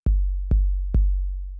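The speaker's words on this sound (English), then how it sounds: "which is just an 808" Plain 808 kick drum for an indie track: three deep, booming hits with a click on top and long sustained sub-bass tails that run into one another, loud with no voices.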